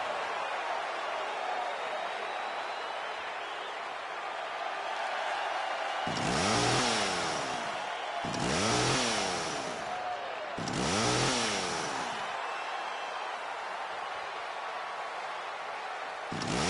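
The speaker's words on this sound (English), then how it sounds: "here comes, of course, Mr. Holiday, or as we know him, it's Zack, with his chainsaw" A chainsaw revs in three loud, roaring bursts at a wrestling show, with a crowd murmuring and cheering steadily throughout in a large arena.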